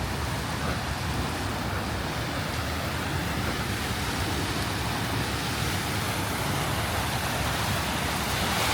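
Outdoor display fountain on Pittsburgh's North Shore, a constant loud rushing hiss of spraying and falling water that stays even from start to finish.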